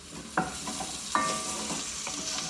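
A Peruvian sofrito (aderezo) base for cilantro beef stew fries in a pan, a steady close sizzle broken by a few sharp scraping stirs with a spoon, with no talking over it.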